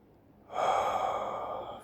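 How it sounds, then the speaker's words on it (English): A person breathing deeply while relaxing after stretching, a single long, steady exhale that swells suddenly and fades slowly, close and fairly soft. "I'm just breathing."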